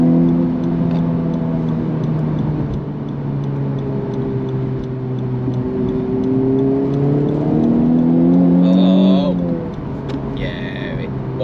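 Honda Civic Type R GT hot hatch pulling hard from a loose surface, a steady loud engine drone rising in pitch through the gears with a brief shift near the end.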